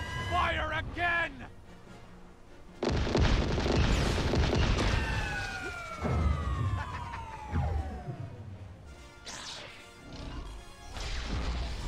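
Cannon fire in LEGO Star Wars: The Skywalker Saga, loud crashing blasts and booms with descending whistling tones trailing off, a chaotic stretch of heavy impacts broken by quieter moments, with voices speaking around them.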